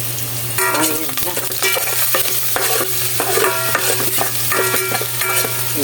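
Garlic and onion sauté in hot cooking oil with a loud, constant sizzle, while a utensil scrapes and clinks against the pan in an uneven rhythm, close up with no talking.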